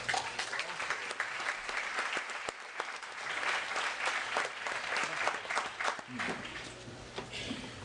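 Audience at a town hall meeting on the Ferguson, Missouri events breaks into steady, sustained applause that fills the room, with dense clapping throughout and some voices mixed into the crowd noise.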